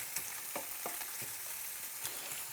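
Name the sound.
Oktoberfest sausage frying in a pan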